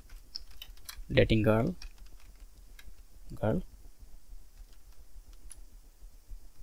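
Computer keyboard typing clicks softly at close range in a steady scattered patter throughout, briefly interrupted by two short bursts of someone speaking.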